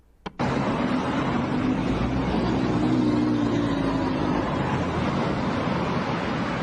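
Steady, loud roar of street traffic in the city of Criciúma, a continuous wash of passing vehicles with no voices, opening after a sharp knock.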